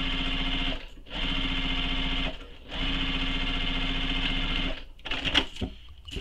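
A sewing machine stitches the seams of a fabric clutch bag in steady buzzing runs, pausing twice briefly before a final stretch of stop-start stitching and handling noises, close and clear with no talking.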